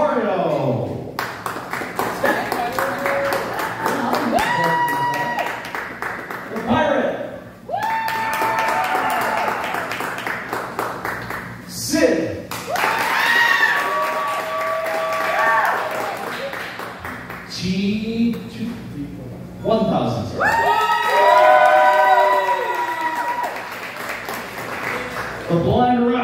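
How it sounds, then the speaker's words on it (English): A crowd at a Halloween costume contest in a bar claps and cheers in bursts, with loud whoops and shouted voices rising between stretches of talk. "So let's do by applause"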